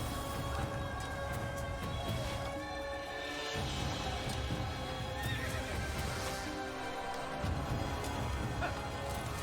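A horse neighs loudly amid continuous galloping hoofbeats and busy game-style background sound in Assassin's Creed, all close and dense.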